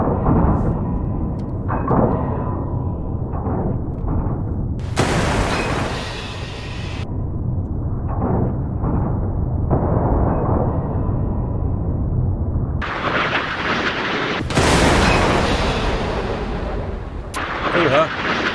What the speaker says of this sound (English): we're going to take our UGM-84, let's take 2 of them and fire at him.